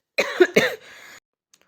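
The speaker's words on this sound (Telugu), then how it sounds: "వాయిస్ ఇచ్చేటప్పుడు సడన్గా దగ్గు వచ్చిందని" Two sharp coughs in quick succession, close and fairly loud, followed by a short trailing breath, with no talking.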